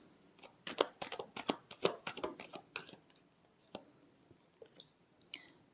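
Tarot cards being shuffled give a quick run of crisp riffles and flicks, close and fairly quiet, then trail off into a few soft taps and slides.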